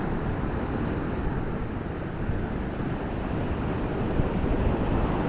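Waves crash and surge along a beach at Hornsea during low-tide sea fishing, a constant rough roar mixed with wind buffeting the microphone, with no talk.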